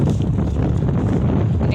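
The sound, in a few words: strong wind at sea blowing into the microphone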